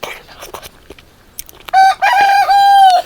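A rooster crows loudly and close by, a long drawn-out call following a few faint rustles and knocks.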